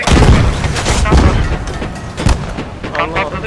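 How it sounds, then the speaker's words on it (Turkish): Video game explosions and gunfire boom through a busy battle mix as a tank explodes, with dense low-end blasts and a sharp burst near the middle, while a voice talks over it in Turkish. "Öteki tankı Patladı."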